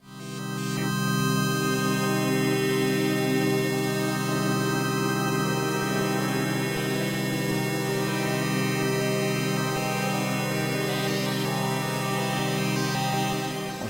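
A wide synth pad from Arturia Pigments swells alone under a large, broad stereo reverb, sustaining steadily and loudly for the whole stretch with a slow fade near the end.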